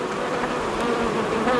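Honeybees buzzing close by on a hive frame while a gloved beekeeper handles it, a steady crowded hum with no voices.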